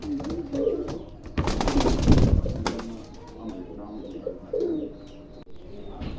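A pair of high flyer pigeons at a pigeon farm coo softly in repeated short phrases, close by, broken once by a brief louder burst of rustling noise.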